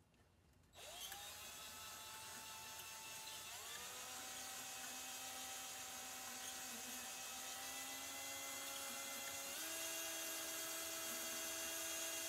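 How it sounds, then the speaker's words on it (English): A power-driven honing tool spins inside the axle seal bore of a 1988 Dodge Raider, giving a steady high whirring whine that starts abruptly and shifts pitch slightly a few times as it runs, close and continuous. "So we're gonna use our little honing tool here. We're gonna hone that out for a few minutes."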